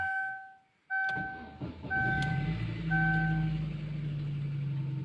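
A Chevrolet Aveo 1.6 16v petrol engine cold-starts inside a garage: a few chime tones, a brief crank, then the engine catches and settles into a steady, close idle.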